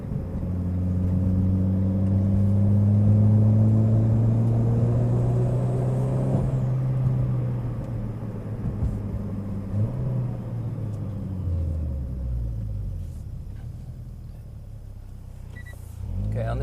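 A Mitsubishi Evo X MR changes down through the gears. The engine drones loud and steady, then the pitch drops in steps as each lower gear is taken, and a low rumble follows.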